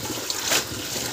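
Green onion leaves are washed in a large tub of water, with soft sloshing and dribbling as they are dunked, one brief louder splash rising in the middle, heard without speech.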